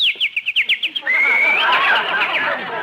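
Sparrow chirps from a radio sound effect: about ten quick, bright, evenly spaced tweets over the first second, then giving way to a steady, louder warbling whistle that runs to the end.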